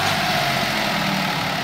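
A Swaraj 735 FE tractor labours in a rain-soaked, waterlogged field with a trolley, its engine giving a loud, close, steady low drone with no pauses.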